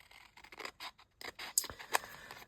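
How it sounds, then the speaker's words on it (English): Small, sharp kid-sized Poundland scissors snipping through paper, a series of quick close crisp cuts and scrapes with short pauses between them. "They're like kids scissors, but they're quite sharp."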